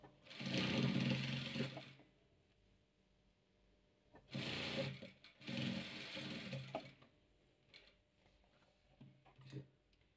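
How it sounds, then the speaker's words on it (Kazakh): A sewing machine stitches a patchwork quilt in bursts of fast, loud running: a long run at the start, then two more a moment apart. Softer ticking and clicking of the mechanism fills the pauses between runs. "Сіздер бірінші рет құрақты тігіп отқан жағдайда машинканың қатты скоростын қоймаңыздар."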